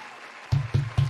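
Three slow, loud claps close by, evenly spaced, one person clapping alone over a faint background hum.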